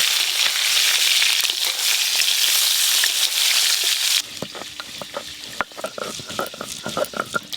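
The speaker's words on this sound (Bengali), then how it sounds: "এবার দাঁড়াগুলো ভেজে নেব" Prawn claws frying in hot oil, a loud dense sizzle that turns into crackling pops and scraping stirs partway through, close and with no speech.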